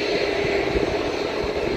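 Airliner taxiing on the runway after landing at Hasanuddin Airport, a steady loud engine rumble and whine close by with no speech.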